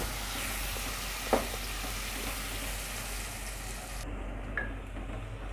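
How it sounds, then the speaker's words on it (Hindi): Chopped medium onion sautéing in a pan for dhaba-style chana dal tadka gives a steady, soft sizzle throughout, with a couple of brief clinks from stirring. "इसमें एक मीडियम साइज़ की प्याज चॉप किए हुए डाल दें। अब इसकी भी बुनाई अच्छे से कर लें"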